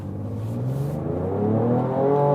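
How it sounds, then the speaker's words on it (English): A 2023 Ford Ranger Raptor pickup in sport mode with Baja exhaust mode revs up with rising pitch as it accelerates, its exhaust growling louder and deeper from inside the cabin. "Let's put it to the sport mode and also the Baja exhaust mode, and let's just accelerate it out."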